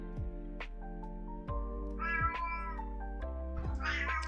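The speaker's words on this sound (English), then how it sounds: "Can you hear my cat?" A house cat meows repeatedly and insistently, with a series of close, drawn-out, caterwauling cries over a steady low background hum.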